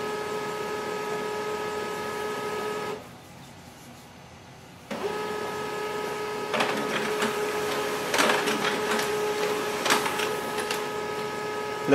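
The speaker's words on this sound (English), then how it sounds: "to print a document, I can select any document and send a print command." An HP LaserJet Pro MFP 3101fdw laser printer whirs steadily with a tonal hum, pauses briefly, then resumes printing a document with rhythmic mechanical clicks and feed noises, close and loud.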